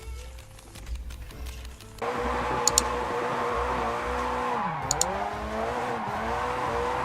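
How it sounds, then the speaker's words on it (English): A drifting car in Japanese Drift Master, an open-world racing game: engine drone rises after a quieter start, with a sustained tire squeal sweeping in pitch as the car slides, plus a few sharp clicks. "Japanese Drift Master is an open-world racing game set in Japan's iconic drifting culture"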